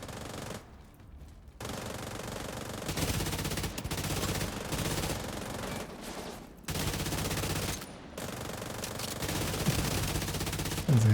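Video game gunfire aimed at a target: long bursts of dense, rapid automatic fire, loud and close, broken by short pauses, with no talking.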